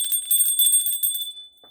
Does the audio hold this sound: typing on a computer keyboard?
no